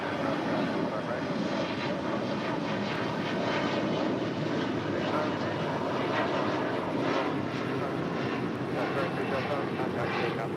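Steady, loud engine roar of airplanes on the runway at Los Angeles airport, continuous throughout with no pauses, while voices talk over it.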